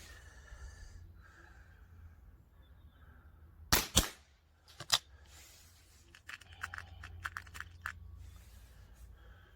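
A Marksman TH78D air rifle fires dirty pellets: two sharp, close cracks a second apart, with faint handling noises before and after.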